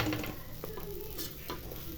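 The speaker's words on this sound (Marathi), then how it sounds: "आता आपण ह्याच्यात थोडा अजून वरून हे टाकायचं आहे कढीपत्ता आणि मिक्स करून घ्या." A spoon scrapes and stirs lemon rice with curry leaves in a pan, soft repeated scraping strokes over a quiet sizzle, close and fairly faint.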